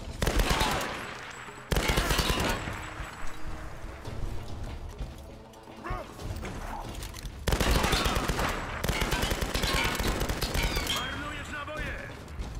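Bursts of rapid gunfire in the video game Tomb Raider crackle and stop in loud, dense volleys, separated by brief quieter gaps with shouting voices mixed in.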